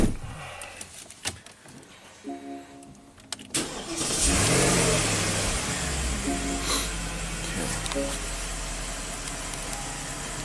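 A Porsche cranks and starts just after throttle body reassembly, with a few clicks and brief cranking before the engine catches. It settles into a loud, steady, close idle that fills the rest of the clip.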